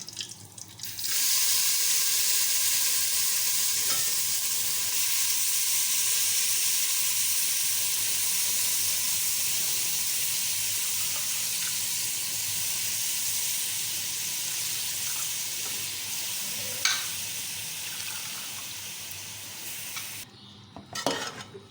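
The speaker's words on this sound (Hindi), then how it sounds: "अभी कुछ भी नहीं, सिर्फ और सिर्फ गाजर डालेंगे और इसको फ्राई करके थोड़ा सा।" Carrots for carrot halwa tipped into a pan and frying, a steady close sizzle running throughout with a few light clinks and stirring knocks near the end.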